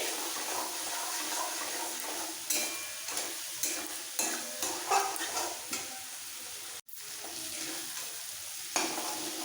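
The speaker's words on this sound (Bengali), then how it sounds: "মশলার সাথে আলু কষানো হয়ে গেছে" Hand-broken boiled potatoes stir-fried with spices in a pan, a soft sizzle under a run of rhythmic spatula scrapes and taps, close and moderate, with a brief dropout near the end and no talk.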